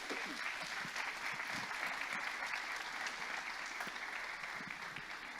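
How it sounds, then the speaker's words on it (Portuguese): Church congregation applauding during a Sunday worship service, a steady, dense wash of many hands clapping that holds at an even, moderately loud level throughout, with no talk over it. "Aplauda o Senhor por isso."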